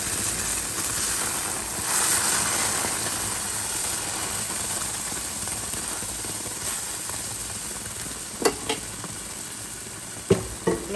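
Tomatillo sauce poured over cooked egg in a pan gives a steady, close sizzle and bubbling hiss throughout, with a few sharp clinks of a utensil near the end.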